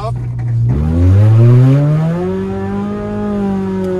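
A very loud car engine revs hard like a race car, rising in pitch through one long climbing pull before settling into a steady, throaty drone close by, with voices speaking over it.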